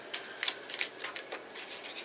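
Tarot cards are shuffled by hand in quick bursts of crisp riffling snaps and soft papery slaps, close up and moderately loud, with no talking.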